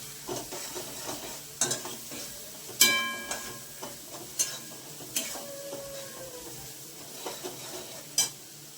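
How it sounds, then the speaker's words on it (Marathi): Green chilies stir-fry in a pan, with a soft sizzle under a series of sharp spoon scrapes and clinks against the metal, close and fairly quiet. "चांगलं परतून घ्यायचं त्याला."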